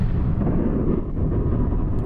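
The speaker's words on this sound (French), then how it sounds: "Une explosion a lieu à l'avant du sous-marin, dans le compartiment des torpilles." Explosion in the torpedo compartment at the front of a submarine, heard as a deep, muffled, rumbling boom that sustains heavily at low pitch for about two seconds with no other sounds.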